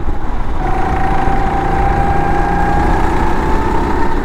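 A 270 cc rental go-kart engine runs steadily at a karting track, a loud, close, continuous drone holding a sustained tone with no speech over it.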